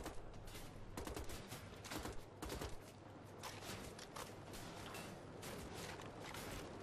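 Rapid gunfire from the video game Wolfenstein: The Old Blood, a dense barrage of repeated shots in bursts that carries on steadily throughout, loud and close with no talking.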